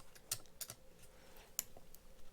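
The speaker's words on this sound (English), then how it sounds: "I'm going to take my blade here and I'm going to gently cut through" A blade slices a paper mache skull, making faint, close crisp clicks and scratches in a few scattered bursts against quiet.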